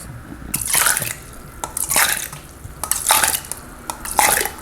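Cherry tomatoes are swished and rinsed in a cup of water, with repeated splashing bursts roughly once a second, wet sloshes and light knocks against the cup, all close up.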